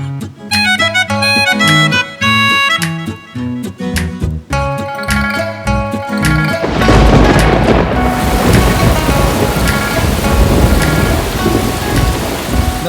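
Music plays first, then a heavy downpour takes over, a dense, loud, steady hiss of rain with deep rumbling beneath it and no voices.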